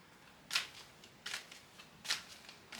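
Tarot cards being shuffled by hand in three separate bursts of crisp riffling, each about half a second long, close and moderately loud against a quiet room.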